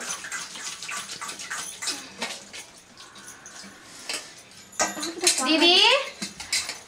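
Pots, pans and cutlery clink and clatter as dishes are washed by hand in a home, with splashing water and scraping utensils mixed among people talking.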